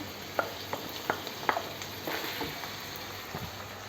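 Steady frying sizzle in a pan with a few clinks and stirring scrapes, close and moderately loud, no voices.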